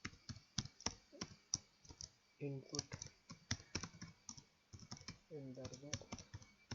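Quick clicks of typing on a computer keyboard while a number is entered, sounding close and crisp, with someone speaking over the keystrokes.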